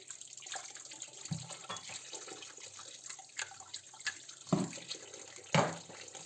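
A goat or sheep head is washed under running water, giving a faint, steady tap stream with splashes and occasional louder wet slaps as it is handled.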